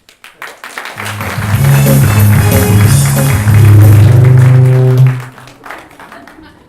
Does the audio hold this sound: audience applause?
yes